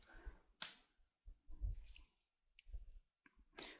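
Keys clack on a computer keyboard while commands are entered in a Linux terminal. The clicks come close and in irregular clusters, with short gaps between them.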